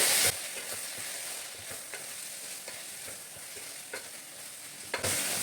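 Vada curry masala being stirred in a pan, a soft continuous sizzle under repeated light scraping strokes of a spoon against the pan, close and without speech.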